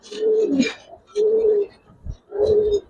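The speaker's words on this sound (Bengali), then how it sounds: "তো যারা সুন্দর কবুতর চান," A pair of Silver Giribaz pigeons coos in three rounded, drawn-out phrases separated by short pauses, close and clear with no talk.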